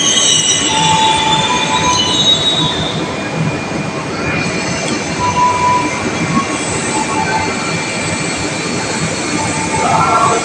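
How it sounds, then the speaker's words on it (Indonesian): A CC201 locomotive rolls through a busy Jakarta railway station with a loud, sustained rumble and shrill squealing wheels that rise and fade across the whole stretch, close by and without a break. "Lokomotif CC201 pulang ke Depo Cipinang."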